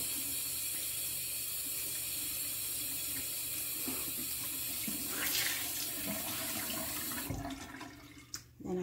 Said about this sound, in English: then I take my towel and I run the water